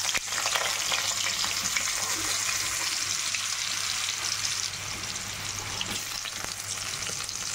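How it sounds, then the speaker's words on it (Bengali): Potatoes fry in hot oil with cumin and bay leaf, a steady close sizzle and crackle that runs loudly and evenly throughout, with no talking. "এবার আমি এর মধ্যে আলুটা দিয়ে দিচ্ছি।"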